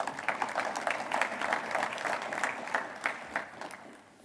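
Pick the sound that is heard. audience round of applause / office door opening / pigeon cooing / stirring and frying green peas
audience round of applause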